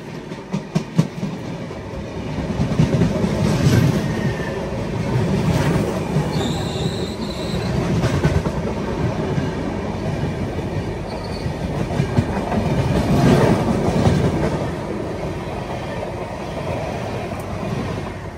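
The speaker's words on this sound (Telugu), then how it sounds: "న్యూఢిల్లీ నుంచి ట్రైన్ మీద ట్రైన్ బయటకు వచ్చేస్తుంది." A passenger train runs on the tracks near New Delhi, with a steady close rumble of wheels, rhythmic clickety-clack over rail joints and occasional wheel squeal, continuous and fairly loud throughout with no talking.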